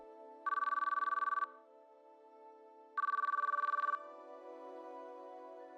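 A phone call rings unanswered in the visual novel game CHAOS;CHILD, two clear electronic ring bursts about a second long each, separated by a pause, with a soft synth music bed underneath and no talking.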